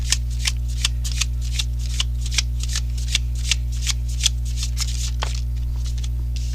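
Tarot cards are shuffled by hand close up, a run of soft riffling flicks and taps in a steady rhythm over a constant low electrical hum, with no talk.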